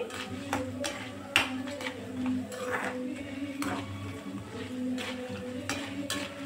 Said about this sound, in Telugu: ఇవి కొంచెం వేగాలండి.